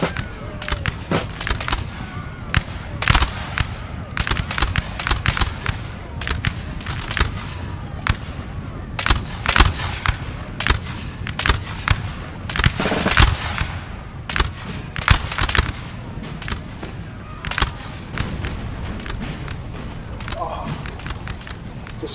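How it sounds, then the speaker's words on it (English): Repeated volleys of artillery and musket fire in Napoleon: Total War 3, sharp cracks and booms landing in rapid irregular bursts across the whole stretch, loud and dense, with a voice talking underneath. "devastating, absolutely devastating artillery here"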